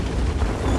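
A Kampfpanzer 07 PE tank cannon fires gold ammunition in World of Tanks, one heavy, booming blast with a thick low rumble that fills the brief moment, loud and alone.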